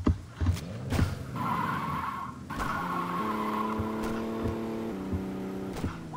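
A car in the video game Saints Row 2 drives with a sustained engine whine and squealing tires, opening with a few sharp thuds, then a steady tone that shifts pitch as it skids along.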